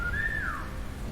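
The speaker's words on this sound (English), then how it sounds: "Is there any chance we can whistle loudly enough to get that guy from here?" One short whistle rises and then slides downward, meant to lure a guard within a World War II stealth tactics game, clear and unaccompanied above a low ambient rumble.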